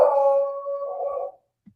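A household dog lets out a sustained howl lasting over a second, near and fairly loud, fading out, followed by a faint brief thump; no talking.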